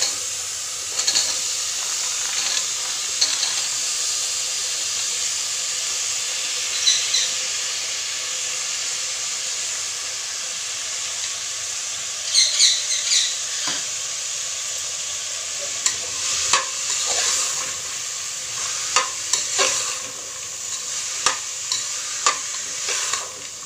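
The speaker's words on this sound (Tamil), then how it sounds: "இப்போ வந்து எல்லா காய்கறியும் இதில் மிக்ஸ் பண்ணிடலாம்" Mixed vegetables are stirred and sautéed in a pan with ginger and garlic for a vegetable kurma, making a continuous close hiss with repeated sharp scraping and clattering stir strokes. There is no talking.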